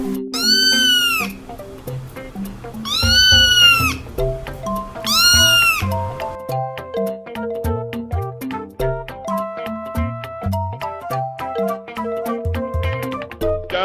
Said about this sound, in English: can't stop meowing. This is too cute.